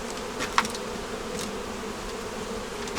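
Honeybees buzzing steadily as they are smoked off a hive frame, a continuous close insect hum with one brief sharp knock early on and no talking.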